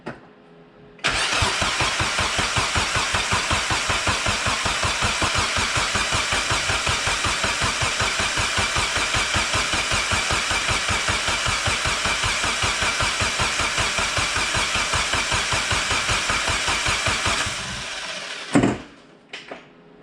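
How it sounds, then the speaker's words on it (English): A Mazda Miata engine with an eBay turbo kit fitted cranks over with its fuel injectors disabled, the starter whirring in a fast, steady, loud rhythmic churn for about sixteen seconds before cutting off with a clunk. "So we're just gonna crank over the engine, kind of build some pressure up, oil pressure up"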